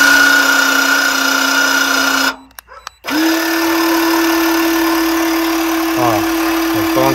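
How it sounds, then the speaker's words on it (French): A motorized portable car jack lowering under an MGB GT V8, a steady mechanical whine with a constant pitch, briefly pausing, then resuming and running on, close and loud, with a voice speaking over it. "je peux descendre mon cric, c'est une tuerie ce cric"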